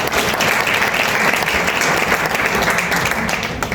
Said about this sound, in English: Please put a round of applause for Trudy.